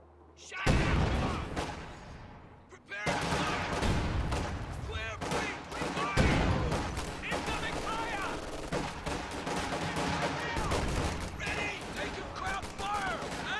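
Rifle grenades and high explosive rounds fired from a group of Sherman tanks at Volksgrenadiers in a World War II strategy game, heard as dense overlapping gunfire and blasts with repeated sharp bursts throughout, loud and continuous under a commentator's voice.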